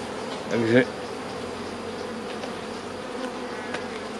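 Honeybees buzzing steadily around a full hive super during a spring colony check, a continuous soft hum with a brief louder buzz as a bee passes close.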